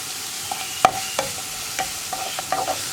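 Onions sautéing with curry leaves in a pan, a continuous close sizzle broken by sharp spatula scrapes and clinks against the metal, with no talking.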